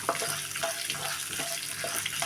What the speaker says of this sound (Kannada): ಶುಂಠಿ ಸ್ವಲ್ಪ ಹಸಿ ವಾಸನೆ ಹೋಗಲಿ ಅಂತ ಸ್ವಲ್ಪ ಎಣ್ಣೆಲಿ ಫ್ರೈ ಮಾಡ್ತಾಯಿದ್ದೀನಿ